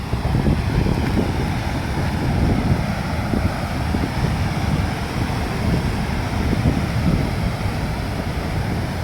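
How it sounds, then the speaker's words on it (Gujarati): Floodwater of the Machchhu river near Morbi roars after heavy rain, a continuous loud rushing wash with steady low rumble and wind buffeting across the whole stretch, no voices. "બાવરામાંથી ટપી જાય તો પાણીનો અવાજ વધારે આવતો હોય છે, મારો ઓછો આવશે"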